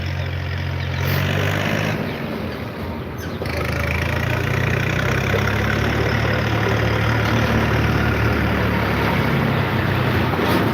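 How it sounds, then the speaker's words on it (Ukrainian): A tractor's loud engine rumbles steadily as it drives past, growing stronger after a brief dip. "Зараз буде їхати трактор"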